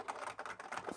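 Keys clatter on an Amiga 500 keyboard hooked up to a big box Amiga, a brisk run of close, moderately quiet clicks with no talking.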